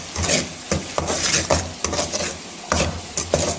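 Spices with red chili, salt, cumin and turmeric fry for a brinjal dish, a low sizzle broken by rhythmic scraping and clinking of a spoon against the pan, close by.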